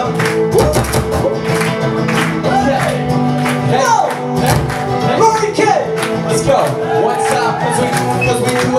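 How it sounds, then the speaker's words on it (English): A concert audience claps along in rhythm to a live acoustic performance, with music and voices shouting and singing over the steady claps. "Everybody clap."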